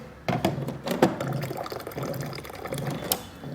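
Water pours into a good-sized coffee mug in a steady, close trickle with a few bright splashing bursts at the start, no speech.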